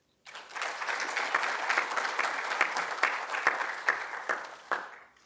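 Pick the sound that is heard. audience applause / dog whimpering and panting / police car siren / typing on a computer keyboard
audience applause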